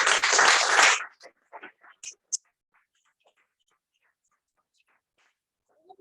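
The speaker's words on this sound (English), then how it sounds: "Let's applaud for them." A short burst of audience applause at a Toastmasters club meeting in Pune, dense and loud for about a second before cutting off into near silence with a few faint rustles and clicks.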